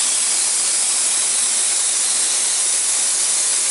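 Gel coat spray gun spraying a new jet boat hull: a loud, continuous, steady hiss of air and spray with no pauses, close by.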